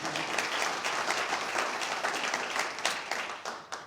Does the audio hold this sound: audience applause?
yes